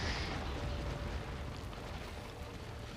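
A cannon shot in a siege of Osaka battle video game lands as a deep, rumbling explosion, the boom fading slowly into a long, noisy roar.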